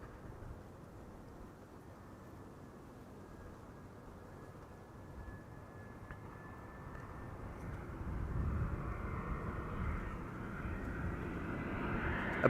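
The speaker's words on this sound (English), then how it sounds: "in the foreground, we have an EasyJet A319 arriving from Bristol" An EasyJet Airbus A319 arriving from Bristol on a sunny day, a faint distant jet rumble with a thin whine that grows louder and broader over the last few seconds, with no talking.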